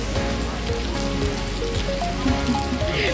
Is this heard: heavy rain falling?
yes